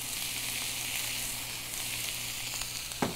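Long julienne strips of onion, about two onions' worth, sizzle and fry steadily in a pan, a continuous close crackle with a brief stir or clatter at the end.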